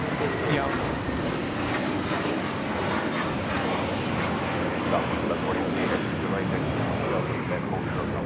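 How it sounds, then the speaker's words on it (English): An American Airlines A321 takes off at LAX bound for Dallas-Fort Worth, a steady, loud broadband jet engine roar that holds evenly throughout, with no talk audible. "1658 taking off to Dallas-Fort Worth on the A321"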